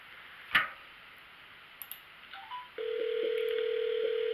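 A mobile phone call is placed: a few faint taps and beeps of dialing, then a steady tone begins and continues, close and clean with no talking.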